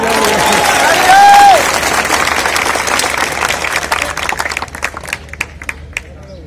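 A crowd at a political rally in Sanchi claps and cheers loudly at first. The applause thins into scattered claps that fade out near the end.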